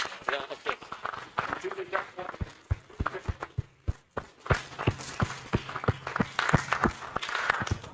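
An audience at a Baringo Geopark capacity building workshop claps for their Senator, with uneven, close-miked hand claps continuing steadily while people talk over the applause.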